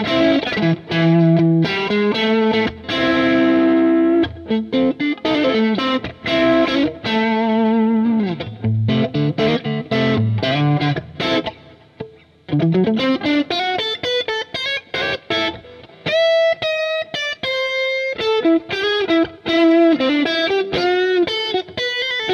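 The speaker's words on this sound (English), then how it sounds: "let me play a 12-bar blues progression for you" Distorted electric guitar solos over a 12-bar blues using the minor pentatonic scale spiced with chord tones, busy runs, bends and vibrato-held notes, steady and close, with no talking.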